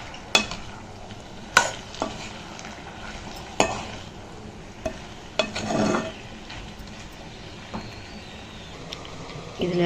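Ivy gourd sautéing in a pan next to a boiling drumstick-leaf kuzhambu, with soft sizzling under sharp clinks and scrapes of a spoon stirring against the pan, spaced irregularly and close up.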